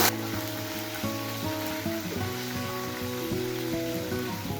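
Seven or eight garlic cloves sautéing in oil for tomato thokku give off a steady, close sizzling hiss beneath continuous melodic background music.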